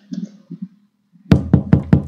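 Four heavy knocks on a door in a horror hide-and-seek game set in an apartment, loud and evenly spaced, following a brief faint murmur.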